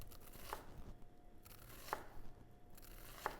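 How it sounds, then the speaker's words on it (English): A knife cuts an onion into even cubes on a board, making three quiet, crisp strikes spaced evenly over a hushed background. "carving off these lovely, even-sized cubes"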